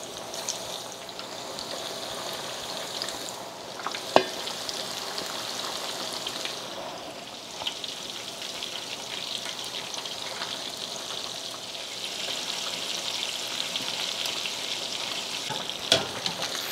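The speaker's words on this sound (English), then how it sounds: "I'm going to just sprinkle a little dusting of flour on my fish before I fry" Flour-dusted fish frying in hot oil at a Kumasi street-food stall, a steady soft sizzle and crackle with a few sharp pops and spatters.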